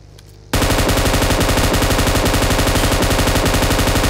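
AWM rifle fire in the mobile shooter BGMI near a military base: after a short quiet lead-in, loud rapid repeated gunshots erupt and continue in a fast, even rhythm to the end.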